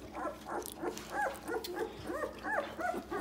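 Puppies whimper and give small yips, a rapid run of thin, high whines close by over a soft background murmur.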